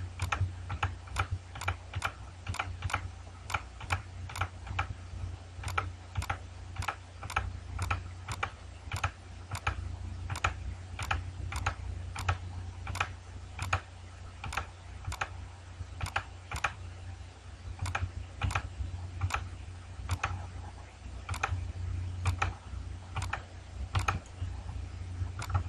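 Computer keyboard keys tapped steadily while editing a design in Photoshop, a long run of evenly spaced sharp clicks, close and clear over a low hum, with no speech.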